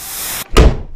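A door slams shut indoors in a cold room of a house: one sudden loud, close bang after a brief hush, its boom trailing off over the following half second.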